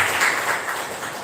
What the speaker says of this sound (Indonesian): Tepuk tangan buat kakak semua